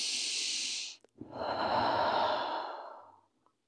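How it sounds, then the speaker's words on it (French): Deep breathing during a back-stretching exercise: one long slow exhale, a brief pause and catch, then a full audible inhale and breath out, close and alone. "Inspirez, expirez. Inspirez. Et soufflez."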